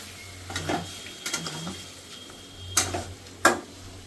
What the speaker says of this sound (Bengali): এবার ভালো করে আমি মশলাটাকে একটু কষিয়ে নেব।